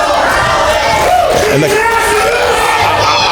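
Capacity crowd at a Central States Wrestling pro wrestling event in Kansas City, a loud, steady roar of cheering and yelling throughout, with a commentator's voice over it.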